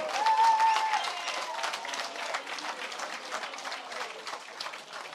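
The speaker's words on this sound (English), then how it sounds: "a massive round of applause" A crowd at a fight night applauds and claps steadily after the opening bout, a dense wash of clapping that starts loudest and eases slightly, with a voice briefly heard over it at the start.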